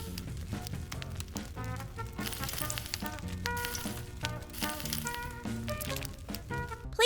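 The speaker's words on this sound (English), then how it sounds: "Grill octopus over charcoal." Octopus coated in sauce grilling over charcoal, giving a crackling sizzle with irregular pops and bursts, moderately close and fluctuating in strength.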